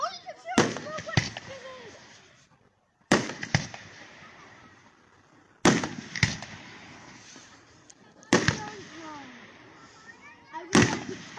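Fireworks at a Smoky Lake display burst in five sharp, loud explosions spaced a few seconds apart, each trailed by crackling and rumbling decay, with distant crowd chatter and whistles in between.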